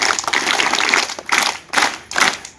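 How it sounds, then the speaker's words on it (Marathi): Audience applause at a Marathi memorial event distributing sports items to students, broad noisy bursts of clapping rising and falling in several waves, fairly loud with no voices over it. "जोरदार टाळ्या वाजवा।"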